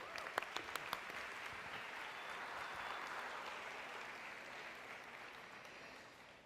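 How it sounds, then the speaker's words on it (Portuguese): Congregation applauding in a church, a few sharp individual claps at first building into steady, fairly faint massed clapping that fills the room and holds to the end. "Uma salva de palmas para eles aí."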